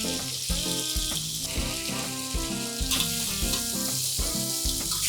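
Boiled potato cubes sizzle steadily as they fry in a tangy amchur-spiced masala, a continuous soft hiss running beneath prominent background music.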